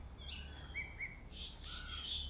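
Several birds chirp and whistle outdoors in short, bright calls, a few rising tweets followed by louder clustered chirps over a low steady background rumble.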